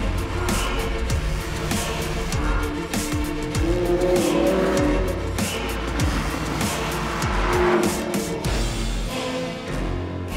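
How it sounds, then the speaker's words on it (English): A tuned, turbocharged 800-horsepower Lamborghini Huracan with a 10-cylinder engine screams loudly and continuously, with rising revs, tire squeal and skidding over a sustained roar. "the turbocharged 10-cylinder screams as if it were about its own survival"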